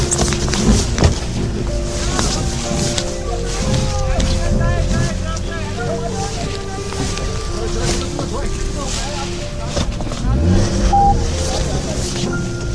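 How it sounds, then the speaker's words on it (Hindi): A Maruti Swift car's engine labours steadily up a snowy slope in heavy snowfall, a constant low drone with wind noise, while people talk over it throughout. "देखिए चढ़ रही है हमारी गाड़ी"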